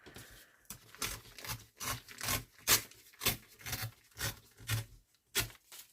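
Paper being trimmed while making a fall-themed junk journal, heard as a run of close, rhythmic rasping cuts in short bursts with brief pauses between strokes.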